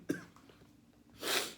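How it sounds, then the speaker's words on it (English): A single sharp cough near the mic, followed after a pause by a louder, breathy burst that may be a sneeze or throat clearing, indoors. "I'm like coughing and sneezing today."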